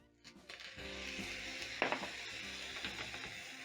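Minced meat with tomatoes, tomato paste, carrots and softened onions cooking in a pan for a peas and minced meat stew, giving a steady close sizzle and frying hiss with a few brief stirring clatters.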